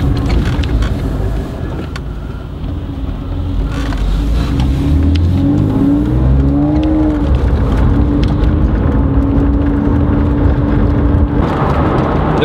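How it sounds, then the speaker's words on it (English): A Porsche 911 Carrera S with Aerokit accelerates hard through the gears from inside the car, the engine note rising in pitch with each gear, dipping at the shifts, loud and steady under road and wind noise. "The car's pulling really cleanly through the gears"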